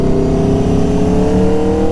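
An Aprilia Tuono Factory motorcycle fitted with an SC Project S1 exhaust rumbles loudly and steadily, a deep, rowdy engine drone with a slightly rich low-end burble, heard close and continuous with no talking.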